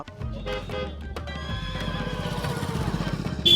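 A young colt named Abhimanyu at the Pushkar horse fair whinnies loudly and close by, a long wavering neigh over hoof clip-clops and crowd bustle, ending in a short sharp squeal.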